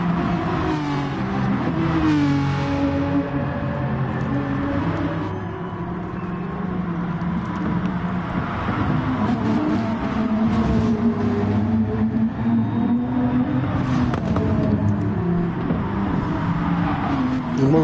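Race cars in a PS4 racing game rolling out onto the track, several engines humming and revving together in a continuous, fairly loud drone with shifting pitch.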